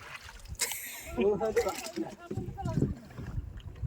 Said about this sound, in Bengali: এই যে ভাগিনে চালাচ্ছে নৌকা